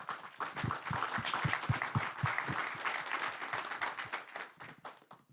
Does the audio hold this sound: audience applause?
yes